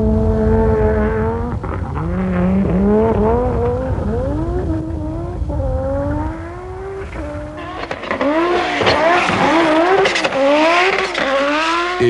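Peugeot 205 and Audi rally cars race up the Pikes Peak hill climb, engines loudly revving and climbing through gear changes with rising and falling pitch, close and continuous.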